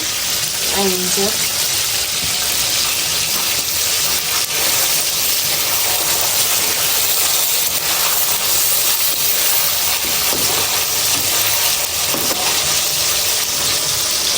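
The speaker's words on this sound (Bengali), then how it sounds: "আজকে অবশ্যই সে চিকেন ভাজতেছে" Chicken frying in a pan at home in the evening gives a constant, dense hiss and crackle that fills the whole stretch, close and loud, with faint voices in the background.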